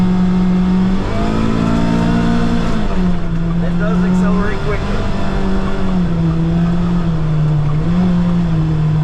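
A 2024 Kawasaki Ridge side-by-side accelerates off-road in low range over rocks, its engine a loud, steady drone that rises and falls in pitch, close by, with someone talking over it.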